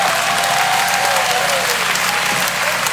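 A crowd at a hardcore show cheers and applauds for the band, a dense, loud wash of clapping and shouting that stays steady for a few seconds.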